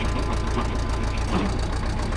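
A 73-year-old CAT tractor engine runs at a steady idle, a close, continuous low rumble with a slightly knocking texture and no talk over it.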